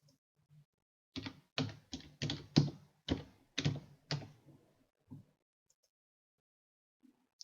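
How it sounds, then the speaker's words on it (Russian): Close, quiet keystrokes tap on a laptop computer keyboard in a quick burst of about eight presses, followed by a few scattered single taps and silence. "Далее пишем в файле следующие строчки."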